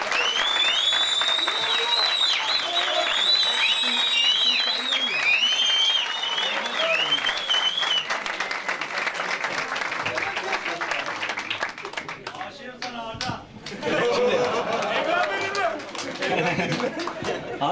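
Sustained audience applause at a large seminar in Izmir, loud and continuous clapping with cheers and whistles, fading briefly before swelling again near the end.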